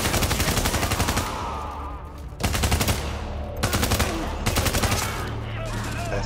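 Bursts of automatic gunfire from The Division, loud rapid machine-gun volleys in several separate bursts with short pauses between, under faint talk.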